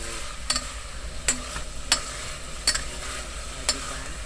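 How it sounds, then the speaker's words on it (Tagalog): A spoon stirs chicken congee with pepper in a cooking pot, sharp scraping knocks landing about every second over a soft steady simmer, close by and without voices. "Si paminta ilagay at halu-haluin natin siya ulit."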